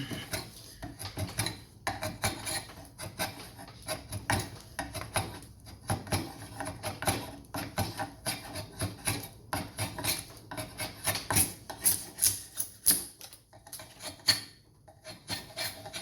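A draw knife shaves an Osage orange bow stave in a steady series of close, rhythmic rasping strokes, each a short woody scrape repeating for the whole stretch.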